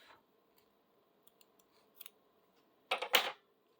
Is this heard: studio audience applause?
no